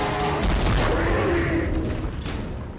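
Cannon fire from the monster movie Tremors 4: The Legend Begins, heard as a loud, dense blast with rumbling, crashing noise sustained across the whole moment and no clear pauses.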